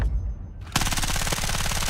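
Rapid automatic fire from a KV9 submachine gun in Battlefield 6, a short pause then a loud, close, continuous burst of fast, evenly spaced shots running to the end.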